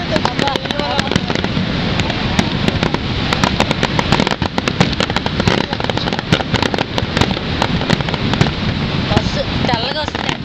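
A fireworks display at Niagara Falls keeps up a dense run of booming bursts and crackling pops for the whole stretch, with voices talking underneath the barrage.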